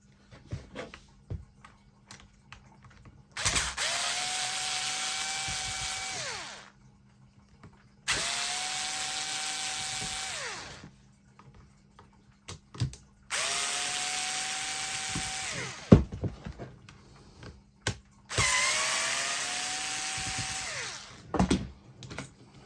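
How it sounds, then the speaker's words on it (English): Power screwdriver whirring in four bursts of about three seconds each, with short pauses between, while screws are backed out of a Makita angle grinder being dismantled for repair; close and fairly loud, with small clicks and handling noise in the gaps. "we'll get these screws out"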